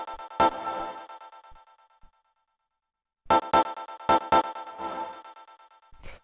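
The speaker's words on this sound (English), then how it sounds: "The next sound we have here is this vocal stab" A short vocal stab sample from a funky minimal house track fires once, then after a gap of silence repeats in a quick cluster of stabs, each a bright, clipped burst with a short echoing tail.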